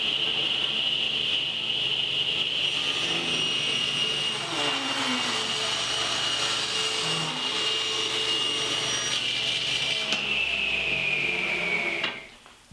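A power saw whines steadily as it rips sapele wood cutoffs into narrow strips, a sustained high mechanical drone with faint cutting changes before it spins down at the end.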